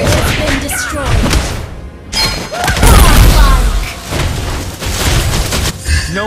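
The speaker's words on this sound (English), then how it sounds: "Our turret has been destroyed." A turret is destroyed in the Mobile Legends video game: deep booms and crashing impacts rumble through loud, busy combat effects, with a heavier thud near the middle.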